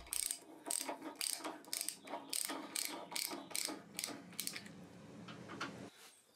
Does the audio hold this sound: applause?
no